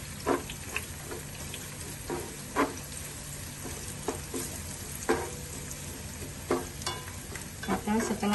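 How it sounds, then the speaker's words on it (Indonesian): Chili, shallots and garlic stir-fry in a hot pan, a steady sizzle broken by repeated scraping strokes of a spatula, close and moderately loud. "Setelah harum kita baru masukkan cabenya."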